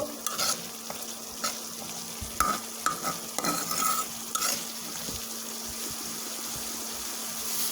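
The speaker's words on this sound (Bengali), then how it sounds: "কুমড়ো বড়িটা ভালোভাবে কষিয়ে নেব" Fried pumpkin lentil dumplings (bori) are stir-fried in a pan with spices, tomato, potato and green chilli: scraping spoon strokes over a constant close sizzle, with no speech.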